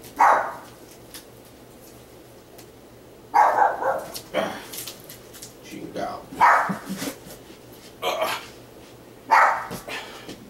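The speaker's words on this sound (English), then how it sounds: "my little doggy heard another dog bark, so she took off down the hall." A dog barks in short, sharp bursts, about half a dozen barks spaced a second or two apart, fairly close.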